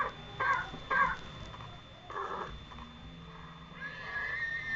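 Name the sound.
horse neighing in the video game Minecraft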